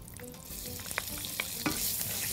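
Minced garlic fries in ghee in a small pan, giving a steady close sizzle with soft crackles and a few light spoon knocks throughout. No one speaks.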